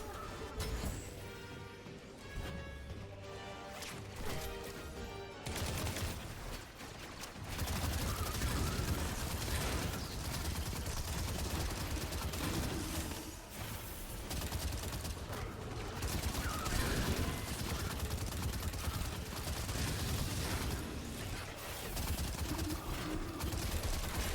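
Turret gunfire in the Destiny 2 Renegades campaign, a dense, continuous rattle of rapid shots that keeps going loud and up close for most of the stretch after a brief, busier opening of mechanical clatter.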